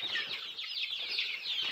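Native desi chickens clucking on a farm, several close, overlapping soft clucks and chirpy calls forming a continuous chatter with no talk.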